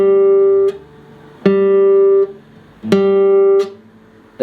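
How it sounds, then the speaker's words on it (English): A fingernail rests against a still-vibrating classical guitar string, adding a buzzing rattle to three plucked notes spaced about a second and a half apart, each ringing and fading with no voices. "My fingernail was touching the string and when it's still vibrating."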